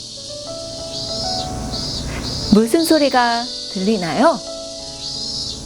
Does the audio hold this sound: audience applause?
no